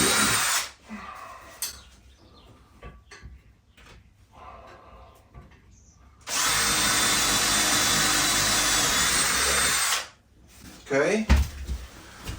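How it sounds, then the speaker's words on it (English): A power drill drilling through a metal stanchion whirs loudly and steadily for several seconds in a close, continuous high-pitched grind, framed by quieter handling noises before and after. "Now I'm going to drill through the holes of the stanchion."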